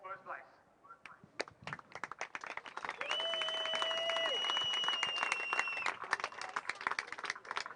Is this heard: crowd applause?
yes